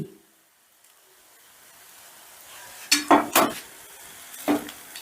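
A ladle stirs vegetable pulao rice in a pot with ghee and garam masala over low heat, giving a few soft scraping, clinking strokes after a quiet stretch.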